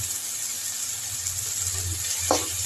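Drained boiled bitter gourd sautéing with other vegetables in a pan of oil for kadamba sambar, a constant close sizzle with one brief scrape of a stirring spoon near the end.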